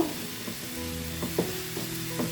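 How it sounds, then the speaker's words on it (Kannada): Tomatoes fry in a pan until soft, a soft steady sizzle with a few light scrapes of a spoon stirring them, close and quiet with no talking. "ಟೊಮೊಟೊ ಚೆನ್ನಾಗಿ ಸಾಫ್ಟಾಗಿ ಹಸಿ ವಾಸನೆ ಎಲ್ಲ ಹೋಗ್ಬೇಕು ಆ ಥರ ನಾವು ಇದನ್ನು ಫ್ರೈ ಮಾಡ್ಕೊಬೇಕು"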